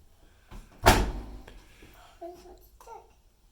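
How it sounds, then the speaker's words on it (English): A washing machine door shuts with one sharp thump near the start, followed by quieter knocks and a small child babbling nearby. "Oh, do we need to shut the door? Oh, okay, we're gonna shut the door."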